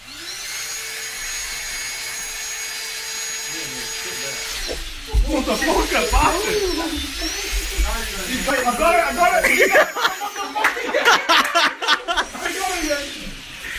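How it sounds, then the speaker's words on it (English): A handheld Dyson vacuum cleaner whines steadily at a high pitch and then roars louder as it works, close by, while people laugh and talk excitedly over it. "Oh, put it in the Hoover."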